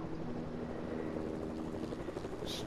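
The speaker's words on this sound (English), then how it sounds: "Oh, helicopter." A helicopter flies nearby in the video game Fortnite, a steady, dense rotor drone holding at moderate loudness throughout without any talk.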